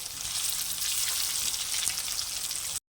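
Spice-coated potato pieces fry in hot oil with a steady, bright crackling sizzle. It stays close and even for nearly three seconds with no talk, then stops abruptly.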